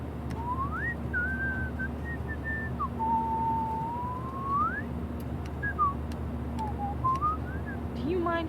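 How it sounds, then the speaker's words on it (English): A person in the game Life is Strange whistles a wandering tune in long sliding notes over a low steady hum, with background chatter beneath it. "Do you mind not whistling?"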